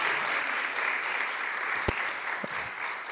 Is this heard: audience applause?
yes